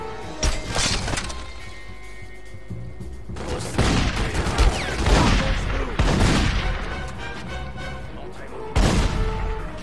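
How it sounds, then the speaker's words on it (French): Magnum pistol gunfire in The Godfather II game on PC, several loud close shots spaced a second or more apart, each with a booming crack and trailing rumble, amid game background noise. "Ah, le Magnum, il est très bien, mais j'ai pas beaucoup de balles."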